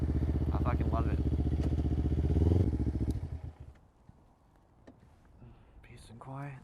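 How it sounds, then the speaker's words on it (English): A 2011 Kawasaki Ninja 250R engine runs with a rapid, even low pulse that swells briefly and then cuts off, leaving near quiet with a few faint knocks, while a voice talks over the engine early on. "This is my baby, my Kawasaki Ninja 250R 2011."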